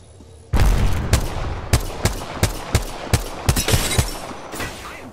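In Apex Legends, gunfire hits the player. A sudden burst of shots is followed by a rapid series of sharp cracks and impacts at an uneven, quickening pace, loud and close, with no talk.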